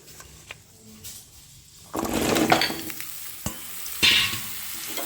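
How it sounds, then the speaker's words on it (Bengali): Cut mangoes, about a kilo, tipped into a pan of hot tempering for a jaggery mango dish: a quiet start, then a sudden loud burst of sizzling with stirring scrapes, a second surge near the end. "ফোড়ন থেকে যখন আমার একটা সুন্দর মিষ্টি গন্ধ বেরিয়ে আসবে, তখন এখানে কেটে রাখা আমগুলো দিয়ে দিচ্ছি"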